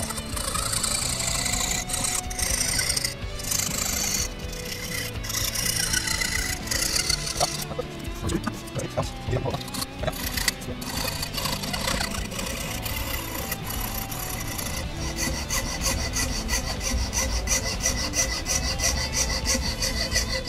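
A fine saw blade cuts mother-of-pearl inlay material against the edge of guitar wood, making a continuous close rasping and scraping sound that changes texture as it goes. No one speaks.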